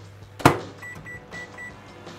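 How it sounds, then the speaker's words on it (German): Microwave oven heating whisked eggs for scrambled eggs, a sharp click or clunk followed by a low steady hum with a few faint short electronic tones, heard close with no talking. "Und das gebe ich jetzt in die Mikrowelle."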